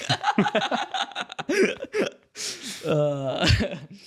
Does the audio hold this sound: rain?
no